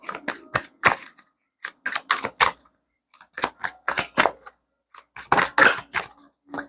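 Tarot cards are shuffled in bursts of crisp riffling and snapping, with short pauses between rapid flurries, close and clear with no talking.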